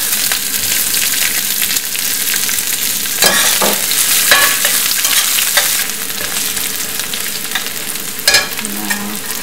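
Curry leaves and onion sizzle loudly in a pan for a masala, a continuous close crackle broken by several sharp scraping stirs.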